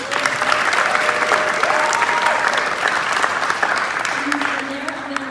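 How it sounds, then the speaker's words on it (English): Sustained applause from an audience at an Oakland City Council Cesar Chavez tribute, steady dense clapping with cheering voices mixed in, fading slightly near the end. "So I just want to give him a round of applause for that."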